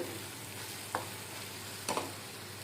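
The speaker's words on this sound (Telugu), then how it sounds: "ఇది బ్రౌన్ కలర్ వచ్చే వరకు వేయించుకుని అప్పుడు మసాలా వేద్దాము ఆయిల్ పైకి వచ్చే వరకు వేయించుకుని" Small fish fry with masala in hot oil, giving a steady close sizzle with a couple of brief stirring scrapes.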